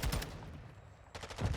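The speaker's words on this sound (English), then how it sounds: "gunshots start to ring out again" Gunfire in the shooter game Call of Duty during a competitive match, short bursts of shots at the start and again near the end with a quieter gap between.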